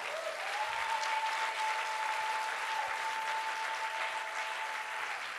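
A church congregation applauds and cheers in a steady, dense wash of clapping that holds at full strength throughout, with a sustained tone ringing underneath.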